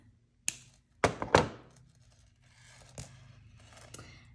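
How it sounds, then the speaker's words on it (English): Wire cutters snipping excess wire from a freshwater pearl necklace, a few sharp close clicks and snaps in quick succession, followed by softer handling taps, in a quiet room. "And then we're going to snip off the excess."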